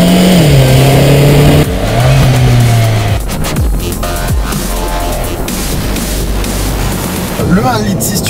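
A Renault Clio 4 RS 200 EDC's 1.6-litre turbocharged 200-horsepower engine revs loudly and close, the pitch climbing and falling through several gear changes, with a brief whistle near the end.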